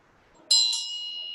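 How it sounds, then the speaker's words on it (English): A hand bell rung to start a group activity gives two quick bright dings in succession, then a clear ringing tone that slowly fades, close and loud after near silence. "I even have a bell here."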